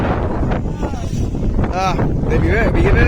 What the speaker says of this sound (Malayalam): കാറ്റെന്ന് വെച്ചാൽ അടിപൊളി കാറ്റ്